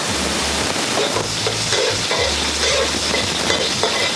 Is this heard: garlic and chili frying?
yes